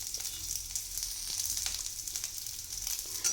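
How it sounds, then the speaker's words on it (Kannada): Green chilli and onion fry in oil with a soft, even sizzle, broken by a few faint ticks and scrapes. "1 ಗ್ರೀನ್ ಚಿಲ್ಲಿ, 1 ಆನಿಯನ್, ಇದನ್ನು ಆ್ಯಡ್ ಮಾಡಿ ಹಸಿ ಸ್ಮೆಲ್ ಹೋಗೋವರೆಗೂ ಫ್ರೈ ಮಾಡ್ಕೊಳ್ಳೋಣ"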